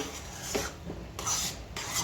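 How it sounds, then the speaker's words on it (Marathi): Repeated scraping strokes of a spatula stirring a thick, oily sweet mixture in a wok, rhythmic and fairly quiet, with no voices. "हलवत राहायचं बिलकुल थांबायचं नाही"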